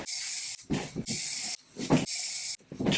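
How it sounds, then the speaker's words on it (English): Disinfectant spray is spritzed onto bed pillows in sharp hissing bursts, five or six pumps in a steady rhythm, close and loud, with brief quiet gaps between them. "And then I also spray it on my pillows like this."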